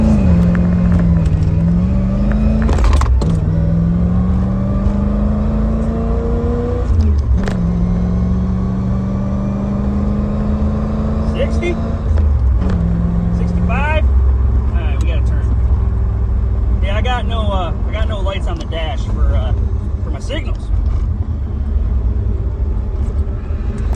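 A car, with a whining power steering pump, accelerates hard through rising and shifting engine tones over a steady road rumble, while people talk throughout.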